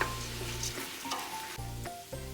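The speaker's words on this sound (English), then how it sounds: "then we will cook the rice and the onion for a little" Rice and onion sautéing in a pot for a Guyanese cook-up, giving a steady close sizzle with a few stirring scrapes and a low steady hum underneath, no speech.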